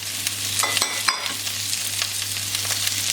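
Steady sizzling of onion frying in a pan, with a couple of soft clinks as it is stirred, no voices.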